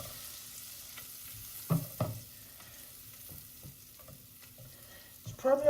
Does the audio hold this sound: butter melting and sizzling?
yes